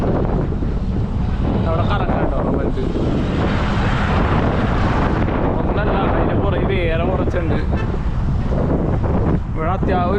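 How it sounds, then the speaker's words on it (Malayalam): Strong wind in a city roaring and buffeting the microphone on a bicycle trip, constant and loud, with voices heard faintly now and then beneath it. "കാറ്റും ഉണ്ട് കേട്ടോ ഇവിടെ."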